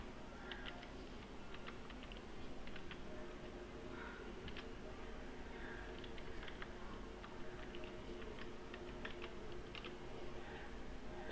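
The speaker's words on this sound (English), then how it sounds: "you have to type this command." A command is typed on a computer keyboard in short clusters of soft, quick key clicks spread across the span, faint and close under a steady low room hiss.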